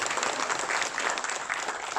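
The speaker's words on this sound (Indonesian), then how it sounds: "Sip, tepuk tangan dong." A crowd gives a short round of even, steady applause at a conversation event with Ganjar Pranowo and young Indonesians in the Netherlands; the clapping sounds somewhat distant and moderately quiet.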